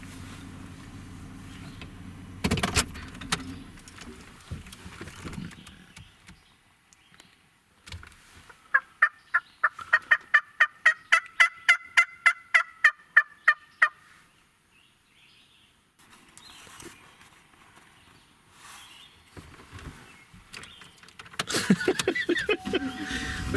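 A wild turkey gobbler gobbles during a Tennessee spring turkey hunt, one loud rattling burst of rapid pulses ringing across a hollow, set between stretches of quiet outdoor ambience and rustling movement.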